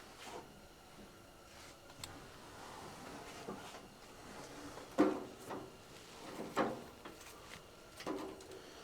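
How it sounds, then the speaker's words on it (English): Car doors on an old Ford Model A Roadster are swung open and shut, producing a few separate metallic clunks and latch thumps spaced apart, fairly close and moderately loud against a quiet background. "The doors both open and close, so the hinges on both sides are in pretty good shape."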